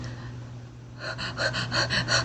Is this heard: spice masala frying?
no